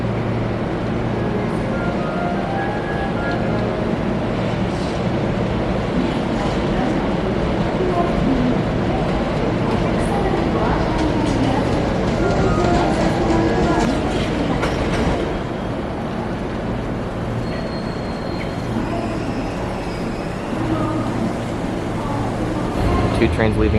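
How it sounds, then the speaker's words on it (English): Two Osaka monorail trains pull into a station together, a continuous loud rumble with rolling clatter and faint squeals throughout, over steady platform ambience. "within a few seconds, there's already two trains pulling in"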